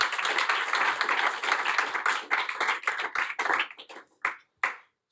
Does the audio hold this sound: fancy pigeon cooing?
no